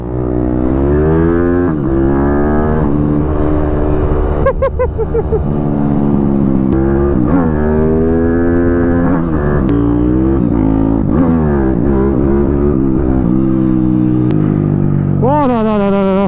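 A YCF prototype supermotard motorcycle races through a track chicane, its loud, close engine note climbing and dropping repeatedly as it brakes and accelerates through the turns, with a final sharp rev at the end.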